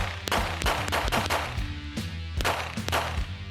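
A Rock Island Armory M1911A1 GI full-size 9mm pistol fires a quick series of sharp, loud shots, roughly seven or eight cracks spaced under half a second apart, with no talking.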